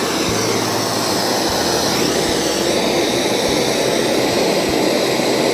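A torch flame roars loud and steady as it heats a seized part on a 1953 Bolens Power Ho garden tractor, a continuous broadband rush close up with a faint low rumble beneath.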